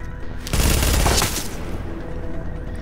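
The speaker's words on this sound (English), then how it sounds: "I'm having to shoot a lot of bullets" A short burst of rapid automatic gunfire from a Firecrest build in the shooter game PTS-2, a loud half-second volley that decays into a faint rattling tail.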